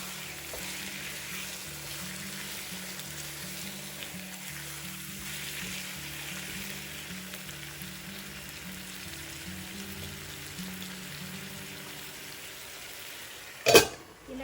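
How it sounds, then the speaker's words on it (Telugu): Chicken coated in masala cooks in a covered pan for chicken fry, giving a steady, low, even sizzle throughout, with a brief sharp clatter near the end. "మసాలా అంతా చికెన్కి పట్టేలా కలుపుకుని మూత పెట్టి ఒక 10 నిమిషాలు ఉడికించుకుందాం."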